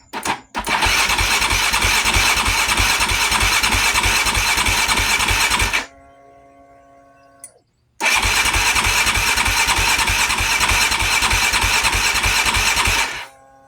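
A 2008 Husqvarna TE450 motorcycle, started on choke, roars loudly and steadily for about six seconds, cuts out to near silence, then fires again and runs just as loud for another five seconds.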